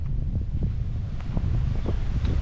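Wind buffeting the microphone outdoors at a fishing spot on a morning, a steady low rumble with gusty swells throughout and no voices.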